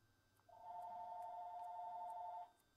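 A telephone rings once with a steady electronic double-toned trill lasting about two seconds, quiet but clear over faint background hiss, with no talk.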